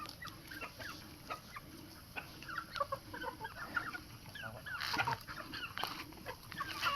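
Chickens cluck on a small mini-farm in the Philippines, with repeated short clucks and squawks from several birds at close range, a sharper burst near the end, and outdoor ambience underneath.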